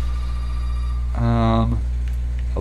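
A phone in the Resident Evil 7 video game gives a single short, buzzing ring that stands out over a steady low hum.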